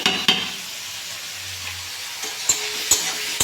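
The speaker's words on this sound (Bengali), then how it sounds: "আমি পেঁয়াজটা এখন অনেকক্ষণ ধরে নাড়াচাড়া করে ভেজে নেবো" Onion frying gently in a pan on a home stove while being stirred: a soft, quiet sizzle with a few sharp spatula scrapes and taps near the start and end.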